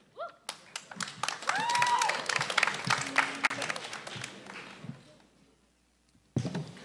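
An audience at a grade 9/10 spoken word poetry event claps for a poet. The applause starts sharply, holds dense and lively, fades out after about five seconds, then a voice begins speaking.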